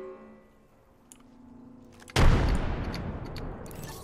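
A frag grenade detonates in the video game Apex Legends, one sudden loud blast after quiet play that leaves a long, fading rumble.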